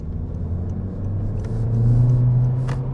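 A 2022 Honda Civic Hatchback Sport engine hums steadily, then swells as it accelerates under throttle, rising into a louder drone with a faint whir and road rumble; no talking.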